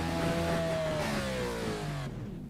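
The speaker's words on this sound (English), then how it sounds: "He's at the end of the pit lane, giving the fans a show of the revs." Race car engine revving hard at the end of a pit lane during a night race, a loud, steady mid-pitched roar with rising and falling rev pitch, close and continuous throughout.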